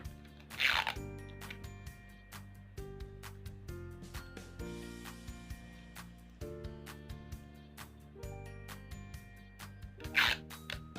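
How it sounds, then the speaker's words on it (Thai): Clear tape wraps around a krathong decoration of incense and candles, making short crinkly ripping bursts near the start and again near the end over soft background music. "จากนั้นนะคะให้นำเทปใส่มาพันให้รอบค่ะ"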